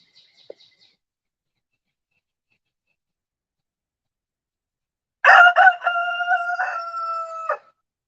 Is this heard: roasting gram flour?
no